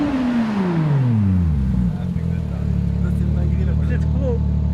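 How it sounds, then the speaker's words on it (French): A car accelerating hard, its engine note climbing in a long sweeping rise before settling into a steady loud drone, with an excited voice speaking over it from inside the car. "Alors là, il accélère."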